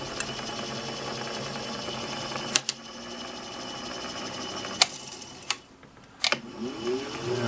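A Singer 15-91 sewing machine's bobbin winder spins steadily in a continuous whirring mechanical hum, broken by a few sharp clicks and knocks near the middle and toward the end.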